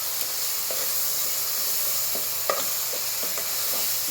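Garlic sizzling in a pan for a dried fish and eggplant curry with a steady hiss, a utensil scraping and tapping as it's stirred, close and moderately loud.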